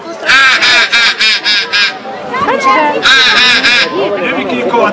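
Human voice imitating a drake's call at a hunting festival, a run of loud nasal honking quacks in two bursts, with other voices and crowd noise underneath.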